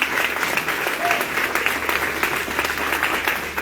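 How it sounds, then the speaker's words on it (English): Audience applause for candidates at a political meet-and-greet, a steady wash of clapping from a sizable room, fairly loud and continuous with faint crowd murmur beneath. "Give them a big round of applause."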